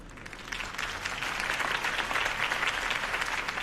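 Steady applause from a large crowd in Batman: The Telltale Series, a dense wash of clapping that swells slightly and holds at an even, moderately loud level.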